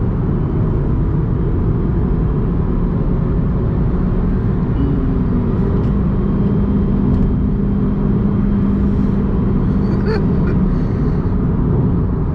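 A Suzuki Swift CVT hybrid, third-generation, runs with a loud, steady engine drone and road noise from inside the cabin, a faint rising tone passing midway; no talking.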